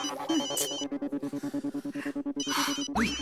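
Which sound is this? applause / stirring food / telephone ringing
telephone ringing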